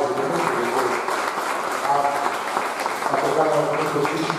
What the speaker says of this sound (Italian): Grazie professor Villani, un applauso